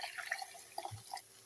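Water poured into a cooking pot while making rasam, a short, quiet, uneven splashing and trickling with no voices.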